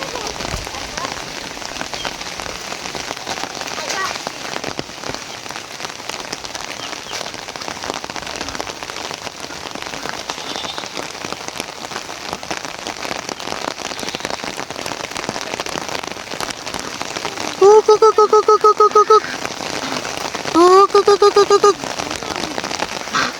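Steady rain falls on surfaces at a rural duck-raising home after about two months of drought, a dense, even hiss heard up close. Two brief tonal beeps cut in near the end.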